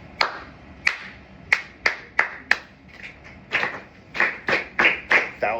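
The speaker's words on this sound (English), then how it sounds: "I'll clap a pattern for you. You'll clap it back to me." Hands clap out a rhythm pattern in a music class: a series of sharp, close claps in uneven groupings, some quick pairs and some spaced beats, with a brief pause between phrases.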